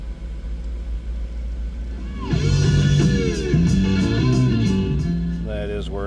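A 1997 Jaguar XK8 convertible idles after a cold start with a steady low rumble, while a person talks over it from close by.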